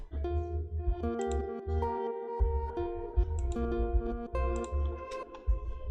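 A synth plays a slow sequence of sustained notes over a deep bass in a dancehall reggaeton beat, with shimmering, reversed-sounding swells from a crystallizer effect rising into each new note.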